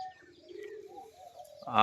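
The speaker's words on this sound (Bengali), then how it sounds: "আর এই যে ওপরে দুটো কবুতর বসে আছে আর বাকিগুলো ডিম বাচ্চা আছে" Giribaz high-flying pigeons in a loft give soft, low cooing calls up close, a short rolling coo ending in a louder rustle.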